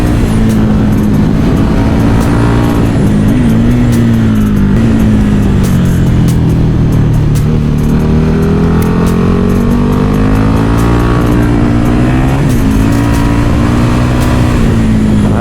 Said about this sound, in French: J'ai vraiment l'impression d'être sur une vieille moto de course